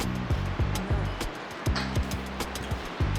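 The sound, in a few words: ocean waves at Hermanus, South Africa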